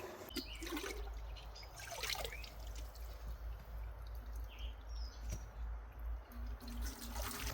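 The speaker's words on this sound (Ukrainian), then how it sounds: "Заливаємо річкову ставкову воду." River pond water poured into the tank of an XAG agricultural drone, a soft trickling and gurgling stream running continuously at close range, with small splashes and drips throughout.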